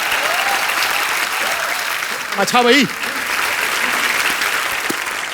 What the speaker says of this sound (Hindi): एक बार हेलन जी और आशा जी के लिए जोरदार तालियां हो जाएं।